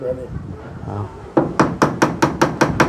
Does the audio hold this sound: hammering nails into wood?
yes